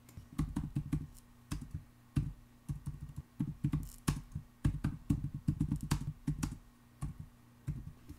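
Someone types a message on a computer keyboard while working on Linux, producing bursts of quick, crisp key clicks with short pauses between them, close up and fairly quiet.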